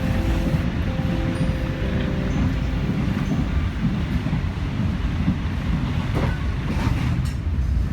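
Steady low rumble of the Kaligung Semar train's locomotive and carriages in motion through Central Java countryside, continuous and fairly loud with wind buffeting and faint brief squeals over it.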